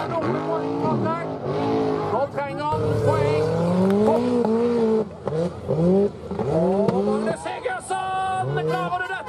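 A rallycross race car at Skien in 2015 roars past with rising and falling engine revs and repeated gear changes, loud and close, while a commentator talks over it.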